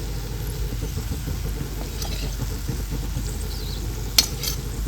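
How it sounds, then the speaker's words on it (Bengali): Ground spices are stirred into chilli pickle in a pan, a steady close scraping and sizzling texture with rhythmic spoon strokes, under a low background hum, one sharp clink near the end. "দিয়ে আবার নেড়ে নিচ্ছি"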